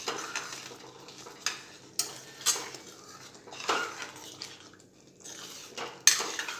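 A spoon scraping and clanking in a pan as pav bhaji masala is stirred into the vegetables, irregular metallic strikes and scrapes over a faint sizzle, close and fairly quiet.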